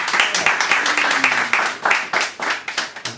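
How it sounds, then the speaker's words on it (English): Clapping from a small audience after an opening set at a live performance, irregular bursts of hand claps rising and falling in uneven waves, fairly close and lively, with faint murmuring underneath. "More applause, please"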